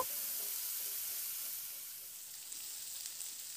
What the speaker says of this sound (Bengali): ফুলকপি ফুলগুলোকে দিয়ে মিডিয়াম ফ্লেমে নাড়াচাড়া করে বেশ একটু লাল লাল করে একটু ভেজে নেব